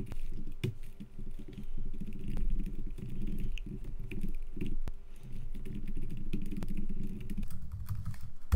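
Keys clatter steadily on a computer keyboard as PHP code is typed, a dense continuous patter of close taps over a low background hum, with no voices.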